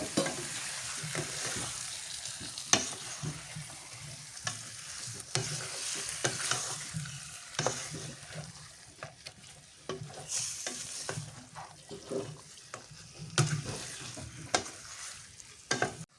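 Beef and liver fry in spiced masala, with a constant soft sizzle under repeated stirring scrapes and clacks of a spoon against the pot, fairly quiet and close, no talk.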